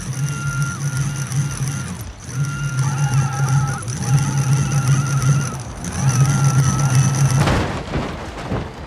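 A Lego car in BeamNG slams into an eight-ton armored truck in a destruction test. A steady, droning game engine tone runs throughout, broken by short gaps, before a sudden loud crash burst near the end.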